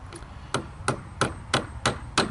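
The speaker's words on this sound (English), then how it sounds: "when I start hammering the nail in" Hammer blows drive a nail into deck wood, six sharp evenly spaced strikes ringing out close and loud with no talk.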